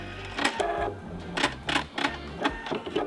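A sewing machine backstitches a seam on a sublimated envelope pillow cover, giving several short bursts of rapid mechanical stitching separated by brief pauses, close and fairly loud with no talk.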